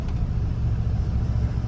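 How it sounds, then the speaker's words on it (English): An eighth-generation Ford F-150 pickup drives along with its engine running steadily after an ignition control module repair, a low, even rumble heard from inside the cab with no talking. "we are now driving the truck just fine"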